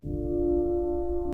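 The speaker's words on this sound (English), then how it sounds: "First off, we're using the LA Custom Mellow piano again," A single sustained note from the LA Custom Mellow piano preset in FL Studio with the attack raised. It swells in softly, holds as a steady mellow tone and cuts off abruptly.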